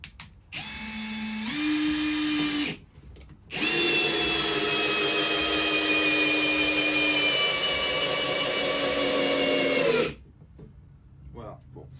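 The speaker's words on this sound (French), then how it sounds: "je suis en vitesse 1, il y a plus de couple en vitesse 1, on va visser moins rapidement par contre" A Ryobi One+ HP RPD18C percussion drill drives a screw in first gear with the torque set high, giving a close whirring motor that rises in pitch, a short burst, a pause, then a long steady run.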